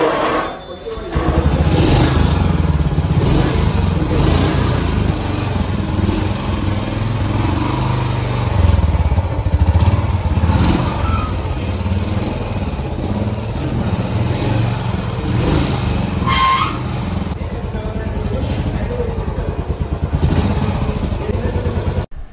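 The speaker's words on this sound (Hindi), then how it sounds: "अब मैं एक बार आपको इस बाइक का एग्जॉस्ट नोट सुना देता हूँ।" A 2023 Royal Enfield Bullet 350 motorcycle's engine runs steadily and loudly up close for about twenty seconds, its exhaust thumping without pause.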